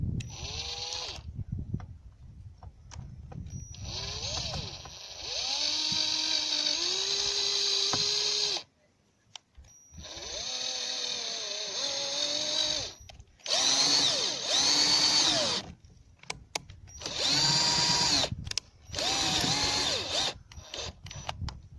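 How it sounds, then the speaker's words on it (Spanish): A cordless power drill drives self-tapping sheet-metal screws through a wooden board into an iron profile, whining in repeated bursts of several seconds with short pauses between, close and loud. "Cogeremos un par de tornillos roscachapa, ajustaremos un poquito el tablón y haremos que cuadre el tornillo con el perfil de"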